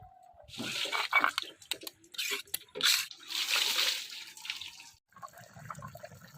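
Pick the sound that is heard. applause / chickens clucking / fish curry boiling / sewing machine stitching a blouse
fish curry boiling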